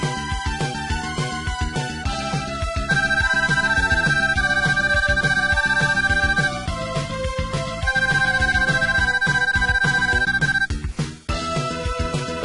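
Upbeat electronic video game battle intro music plays loudly with a punchy beat and bright synth melody lines, ending in a brief dropout near the end.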